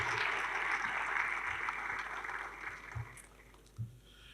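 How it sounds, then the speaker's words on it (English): An audience at the Ekiti State inaugural event applauds for the speaker's father. The clapping is soft and steady, then tapers off over a few seconds. "let's give him a round of applause"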